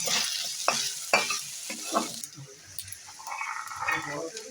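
Grated coconut sizzles with radish in a hot pan while a utensil stirs and scrapes in several sharp strokes, the frying hiss continuing underneath.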